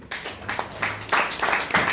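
A church congregation claps together to acclaim the Lord, a close, rhythmic run of brisk claps landing in quick, even beats.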